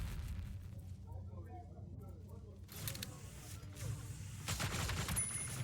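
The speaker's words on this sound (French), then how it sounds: "Il a mis la grenade, mais il a tiré après." Gunfire and a grenade blast rumble in a competitive video game match, dense muffled shots and explosions under continuous French commentary.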